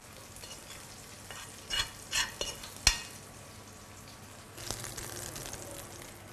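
Potatoes roasting in a pan with almond slivers added, heard as a steady frying sizzle broken by several loud scraping, stirring bursts before the sizzle swells again.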